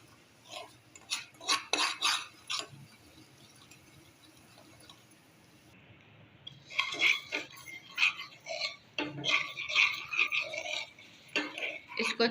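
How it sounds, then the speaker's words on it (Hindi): Semolina roasts in a pan with cardamom for egg halwa, heard as scattered clinks and scrapes of a metal spoon against the pan, close and fairly quiet, in clusters with a lull in the middle. "इसको अच्छी तरह भूनकर थोड़ा सा ब्राउन कलर इसका हो जाए।"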